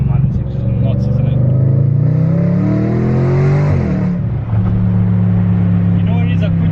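An Audi RS5 engine revs hard up close, its roar climbing steadily in pitch, dipping briefly, then settling into a loud, sustained drone.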